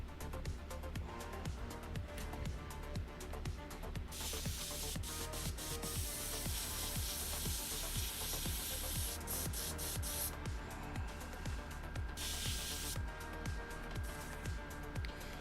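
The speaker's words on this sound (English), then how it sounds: "I'm gonna clean out my airbrush." Airbrush being cleaned out while painting a model kit, giving repeated short bursts of sharp spraying hiss with clicks and mechanical rattles in between, close and fairly quiet.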